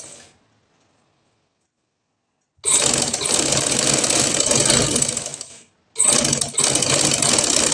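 A sewing machine runs while stitching a pleated strip and chikan lace onto trousers, opening with a short burst, then a pause, then two sustained, loud runs of rapid needle chatter separated by a brief stop.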